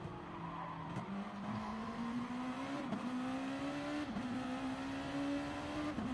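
Race cars in Gran Turismo Sport drone steadily with a rising engine whine, broken by brief dips as they brake and then accelerate again, with a faint tire squeal.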